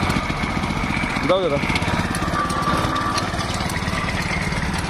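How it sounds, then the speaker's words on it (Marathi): A 7 HP chain cultivator engine runs steadily in a field, a loud continuous mid-pitched drone with a short spoken remark over it. "तर 7 HPचा हा चेन कल्टिवेटर कोळपणी यंत्र आहे"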